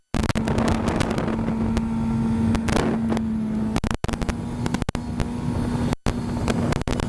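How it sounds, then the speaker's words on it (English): A Suzuki GSX-R750 motorcycle engine drones steadily and loudly up close, with wind buffeting the microphone and brief dropouts. "Get this thing rolling a little bit. Motor seems nice and tight."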